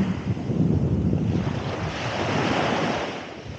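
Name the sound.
ocean waves on the beach at Anaxos, Lesbos, Greece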